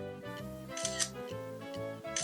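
An iPad camera shutter fires after a tap on a Goojodoq stylus, giving soft clicks over a faint steady electronic tone, with a brief shutter-like burst near the start and another at the end.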